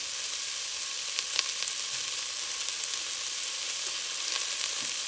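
Onions sauté in a pan for a vegan casserole, producing a bright, even frying hiss with scattered tiny crackles, close and steady with no talking over it.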